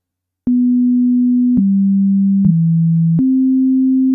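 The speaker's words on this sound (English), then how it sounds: "I always like sine waves. Sine waves are so nice and warm." Pure synthesizer sine tone, clean and steady, stepping between four sustained pitches with a faint click at each change, loud and alone with no voice.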